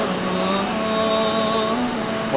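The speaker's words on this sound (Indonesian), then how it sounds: "mobil Xenia Dakar di tes dulu teman." A Daihatsu Xenia engine runs steadily at a workshop during a wheel alignment test, a close, continuous hum with a slight rise in pitch near the end and no talking.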